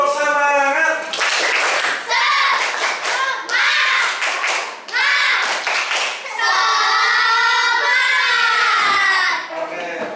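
A classroom of students performs a rhythmic spirit clap, with sharp bursts of unison clapping in patterned groups separated by short gaps and young voices chanting along between and over the claps.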